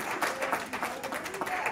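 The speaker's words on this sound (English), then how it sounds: "let's give God a round of applause for what he's doing" Congregation applause during a church service, a moderately quiet, continuous patter of many hands with faint voices mixed in, steady for the short stretch.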